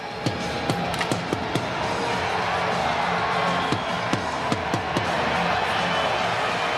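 A drum is struck repeatedly in an irregular rhythm inside an NHL hockey arena, the sharp thumps standing out over the steady roar and cheers of a large crowd, with a voice talking over the noise.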